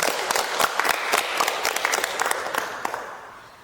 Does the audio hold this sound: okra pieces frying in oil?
no